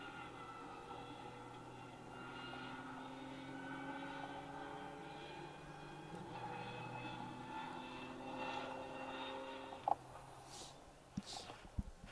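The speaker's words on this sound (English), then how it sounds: "Hear the whine of a Fiesta coming down the hillside." A Ford Fiesta rally car whines down a hillside on a forest rally stage, its steady engine drone sitting at a moderate distance for most of the stretch, with a few sharp knocks and clatters near the end.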